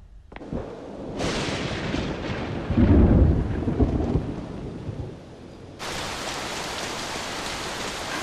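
Thunderstorm with a sudden heavy downpour, a sharp crack of thunder followed by a deep booming roll amid loud rain, then an abrupt surge of dense rain hiss continuing to the end.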